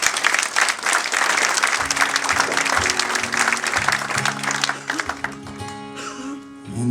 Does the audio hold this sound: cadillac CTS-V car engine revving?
no